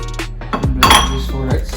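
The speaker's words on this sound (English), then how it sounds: "So let's mix our eggs, cinnamon, and our milk." Eggs, cinnamon and milk being mixed into French toast batter in a bowl, with a few clinks of utensil against dish and a voice talking over it.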